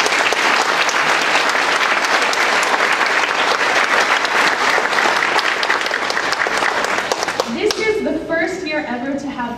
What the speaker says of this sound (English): Please applaud for these ladies.